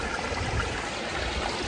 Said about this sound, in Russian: Шум воды льется с горы, где мы спускаемся мимо ступенек, вот этот вот ручей.